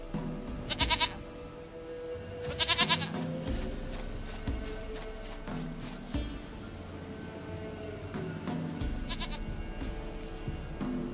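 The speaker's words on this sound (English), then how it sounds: "Goat of mine, dearest, sweetest goat." Goat bleating in The Witcher 3, a few short wavering bleats rising over continuous game background sound, with talk nearby in the scene.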